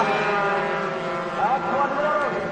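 Cub Prix underbone racing motorcycles at a 2004 Malaysian championship race, their buzzing, high engine whine rising and shifting in pitch as they run the track, under a commentator's voice.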